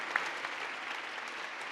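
Gala audience applauding a charity in a large room, a short steady burst of many hands clapping at moderate level, with no speech over it.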